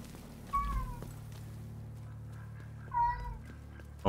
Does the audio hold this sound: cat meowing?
yes